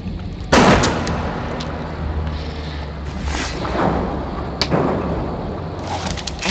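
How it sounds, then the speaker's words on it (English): Gunfire in the video game Bioshock: two sharp, loud blasts ring out a few seconds apart over a dense, continuous roar of in-game noise. "And shoot at it."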